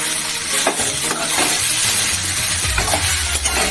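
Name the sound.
spices and vegetables frying in a pan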